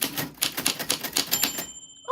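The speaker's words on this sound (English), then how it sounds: "your name fell on the typewriter bell, Chris." A typewriter clatters with a fast run of key strikes, and a short bell ding sounds right at the end as the typing stops.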